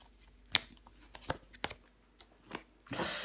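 Tarot cards are handled and laid down on a table, giving a series of soft, sparse taps and slaps spread across the moment. A brief shuffling rustle comes at the end.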